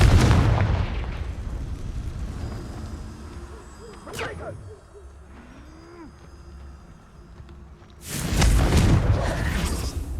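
Confringo fire spell explosions in Hogwarts Legacy: a loud, broad blast opens, a sharp crack lands near the middle, and another heavy burst rumbles at the end over a low game ambience.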